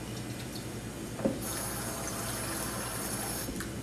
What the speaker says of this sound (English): I'm going to pour it out